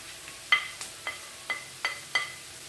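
Spice powders and kasuri methi are sautéed in a pan for shahi paneer, with six sharp, evenly spaced scrapes and taps of a spatula over a faint sizzle.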